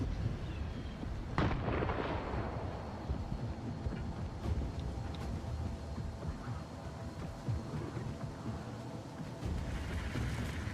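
A single grenade explosion in the video game S.T.A.L.K.E.R. 2, one sharp deep boom early on, then a long rumbling tail fading under steady low ambient noise.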